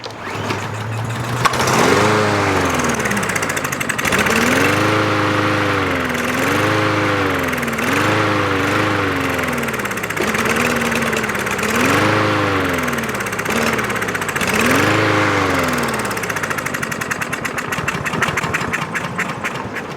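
A 2023 Craftsman M110 lawn mower, previously dead after cutting grass and primed with fuel squirted into the cylinder, is pull-started and runs loudly and close for most of the stretch, its engine pitch wavering and surging repeatedly before it trails off.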